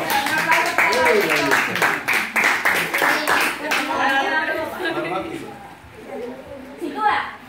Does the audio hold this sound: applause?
yes